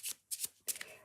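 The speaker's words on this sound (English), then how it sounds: "So I'm going to just do a little shuffle." A deck of playing cards is shuffled by hand in three quick riffling bursts, close and crisp, with brief pauses between them.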